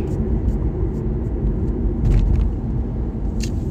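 Driving behind big trucks on the road, a steady low cabin rumble of engine and tyres with occasional rattles, continuous and close, with no voices.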